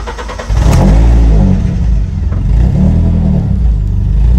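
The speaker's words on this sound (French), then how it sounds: "Je vais allumer la voiture." A car engine starts up close by, catching with a sudden loud burst and then settling into a strong, throaty idle that rises and dips slightly.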